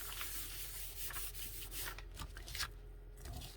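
Paper page rubbed by hand over a painted Gelli printing plate, a soft continuous close-up rubbing and swishing that runs steadily, with a few brighter scuffs near the end.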